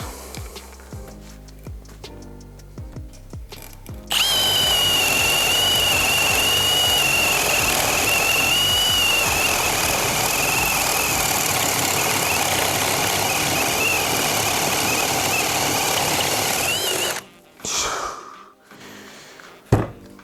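Cordless drill-driver, a Milwaukee M18 FPD2-502X or Vitals Professional AU 18, running at second speed: a loud, steady high whine holds for about thirteen seconds after a few starting clicks, then cuts off, followed by brief handling knocks.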